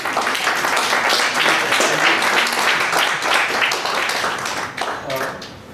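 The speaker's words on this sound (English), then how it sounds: "One round of applause, firstly." Seminar audience applauding steadily for several seconds, a dense wash of clapping with voices mixed in, tapering slightly near the end.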